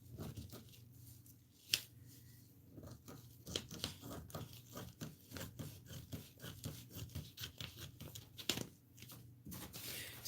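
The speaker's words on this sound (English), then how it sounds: "And here I am with my lousy scissors again." Scissors cutting material for DIY Christmas gifts, a quick series of close, crisp snips and rustles repeating irregularly over a low hum.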